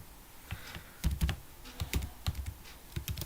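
Steady keystrokes on a computer keyboard as text is typed into a LaTeX document, close and fairly quiet, with irregular bursts of clicks and no talking.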